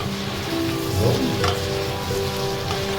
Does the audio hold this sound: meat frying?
yes